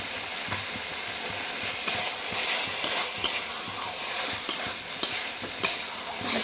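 Fish curry with okra and tomato sizzles steadily in hot oil while a spatula stirs it, giving a continuous loud frying hiss broken by intermittent scraping strokes against the pan.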